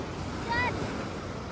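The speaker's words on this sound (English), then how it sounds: "You can see how big the waves are." Small waves wash on a beach at Belitung Island as a soft, continuous roar mixed with wind noise. A brief faint tonal sound rises above it midway.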